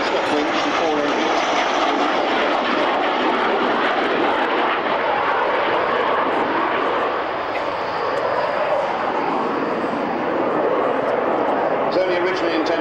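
A de Havilland Comet, an early four-engine jet airliner, roars loudly and continuously past an air show crowd at RIAT Fairford, with a commentator talking over the engine noise throughout.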